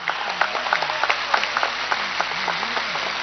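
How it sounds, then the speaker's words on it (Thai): Applause from an audience at a political gathering in Ayutthaya, heard as a dense, steady patter of clapping that carries through the whole stretch, with a low tonal hum running underneath. "ผมอยากเชิญชวนพี่น้อง ปรบมือให้คนนี้"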